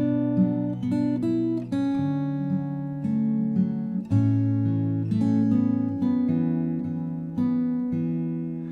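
Fingerstyle acoustic guitar plays the bridge of a song, with a minor chord picked on the fifth, third and second strings together. Sustained chords ring clearly and close, changing steadily, with no voices.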